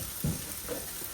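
Chopped garlic drops into a thin film of hot sesame oil and gives a quick, soft sizzle with a small burst of crackle, heard close and alone with no talking.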